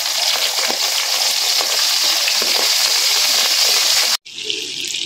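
Garlic frying in a hot pan for garlic buttered shrimp, a loud, steady close sizzle with stirring sounds, ending in a sudden cut and a quieter hiss.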